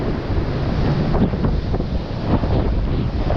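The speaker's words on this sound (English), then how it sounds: "This is like a really this is a really intense wind." Strong, intense wind at a beach during surf fishing buffets the microphone in a loud, continuous roar, with crashing surf blended underneath and no one speaking.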